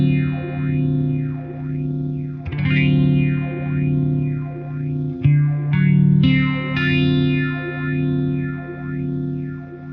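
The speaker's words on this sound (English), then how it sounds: "as the phase sweeps from start to stop and back again, the wet effect of the phasing goes from left to right and back to left" Electro-Harmonix Stereo Polyphase pedal sweeping a deep phasing effect over a sustained, distorted guitar-like tone, with slow regular whooshing sweeps that rise and fall; chords change partway through, with no talking.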